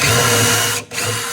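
A power drill fitted with a drill bit whirs loudly and steadily while a DIY shoe rack is built. It cuts out for a split second and then spins up again.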